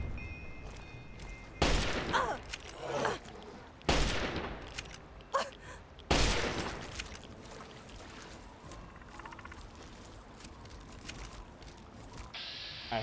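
Three loud bursts of rapid gunfire in Fallout 3, with quieter shots and clatter between them and a low, fading tail at the end.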